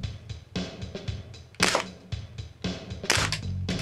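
A WE S&W M&P9C gas blowback airsoft pistol fires a quick series of sharp, close metallic clacks and bursts of gas, several shots in a rapid, uneven string.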